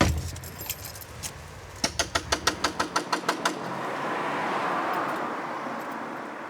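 Coins carried in a pocket jangle in a quick, evenly spaced run of close metallic clinks, then fade into a steady outdoor hiss with faint traffic.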